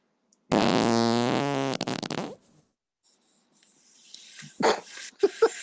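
A fart, loud and close, a buzzing, sputtering blast lasting over a second and a half, followed by quieter rustling, breathy noises and a few sharp bursts.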